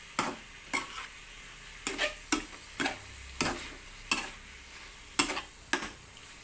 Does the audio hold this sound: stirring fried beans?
yes